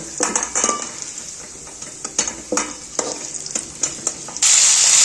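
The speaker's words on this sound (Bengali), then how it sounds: "যতগুলো সবজি আছে, যত রকমের, সব সবজিগুলো ভেজে নেব" Potato and sweet potato pieces fry in a wok with oil, giving a continuous sizzle broken by repeated scraping and clinking of a metal spatula, then a sudden louder hiss near the end.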